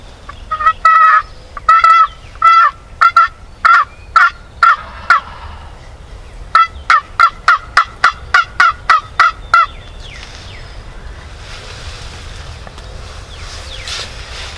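Two bursts of rapid, rattling wild turkey gobbles from a tom, each a quick run of repeated calls, ringing out loud and clear over a quiet outdoor background during a Nebraska spring hunt.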